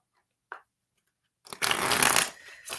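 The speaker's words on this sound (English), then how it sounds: "One more shuffle, and we're going to split the deck." A deck of tarot cards being shuffled at a psychic reading: a brief riffle click, a pause, then a loud, close, rustling shuffle lasting about a second before it tapers off.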